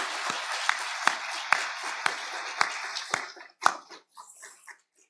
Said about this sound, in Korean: 하나님 우리 영광의 박수를 한번 힘차게 다시 한번 올려드리겠습니다